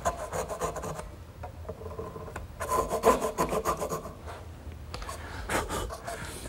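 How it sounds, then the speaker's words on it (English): A small dovetail hand saw cuts tenon shoulders in wood, giving close, rhythmic rasping strokes in short bursts with brief pauses between them. "I'll cut the shoulders by hand."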